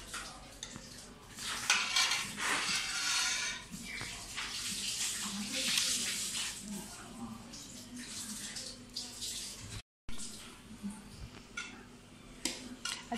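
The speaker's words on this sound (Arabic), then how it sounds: "صافي دابا غنسقيو الكسكسو. دابا غادي نسقيو بشويه بشويه." Water poured gradually over Moroccan couscous made with qadid dried meat: close splashing and trickling in uneven bursts, with light clinks of dishes and utensils and a brief dropout.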